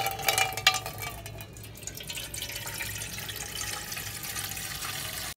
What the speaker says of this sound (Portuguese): Vou colocar aqui a água para ferver do arroz.